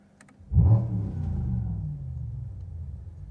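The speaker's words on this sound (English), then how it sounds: "That is the actual noise of a V8 engine on a different vehicle that AMG has recreated for this vehicle." After a brief quiet moment, a simulated V8 engine sound from a Mercedes-AMG GT 4-Door Coupe electric car kicks in with a rev, then settles into a steady, throaty idle close by.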